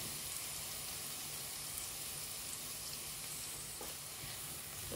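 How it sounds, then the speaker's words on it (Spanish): Chopped onion with a pinch of salt sizzles in hot oil in a large frying pan, a steady, even crackling hiss that continues without pause, with a faint stir near the end. "A mí me gusta echar primero siempre la cebolla, que siento que es lo que más tarda en hacer."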